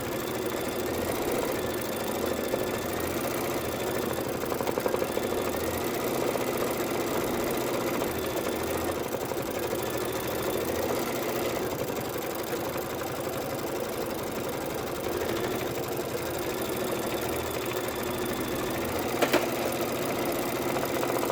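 An embroidery machine stitching a Halloween mummy pillow quilt block runs with a steady, fast mechanical chatter and hum, loud and close and unbroken, with no talking.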